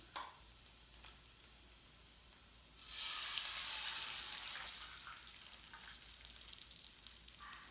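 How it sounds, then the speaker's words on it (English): White wine sauce poured into a hot pan of stuffed chicken with artichoke hearts and sundried tomatoes, bursting into a loud sizzle that slowly settles to a steady softer frying hiss. "we're going to go ahead and add the sauce here, the white wine sauce."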